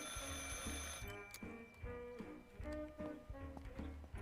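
A telephone rings in the horror game Martha is Dead, a repeated electronic bell pattern in short regular bursts over a low musical drone, fairly quiet overall.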